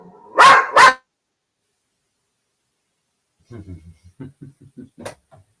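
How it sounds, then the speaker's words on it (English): A dog barks twice in loud, quick succession, then a run of softer, clipped barks follows after a pause. "Go figure. Dog hasn't barked all day."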